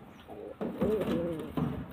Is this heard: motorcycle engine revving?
no